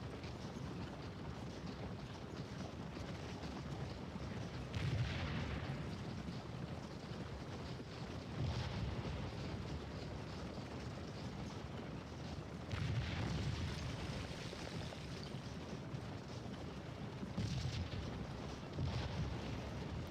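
Artillery and cannon fire in the Gettysburg battle game Scourge of War, distant booms spaced several seconds apart over a low, windy battlefield rumble, muffled and far off.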